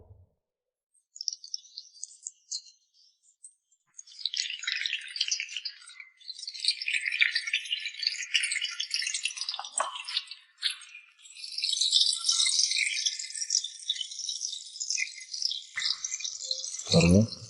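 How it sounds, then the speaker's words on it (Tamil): Eggs are dropped one by one into hot oil and deep-fried, giving a bright crackling sizzle. It starts in brief spurts, then swells into a dense, continuous fizz that keeps going to the end. "இதில் நம்ம முட்டையை ஒன்று ஒன்றா விட்டு பொரிச்சு எடுக்க போகிறோம்."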